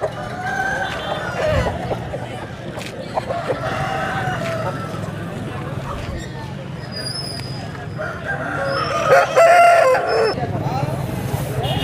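Country chickens and roosters at a Sunday village market in Vizianagaram district cluck and crow repeatedly, with a rooster's crow rising near the end, amid a busy outdoor murmur of people talking.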